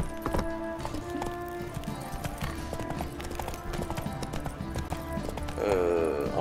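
Horse hooves clip-clop at a gallop in the video game The Witcher 3, a quick, steady rhythm that runs throughout at moderate loudness, with a brief whinny near the end.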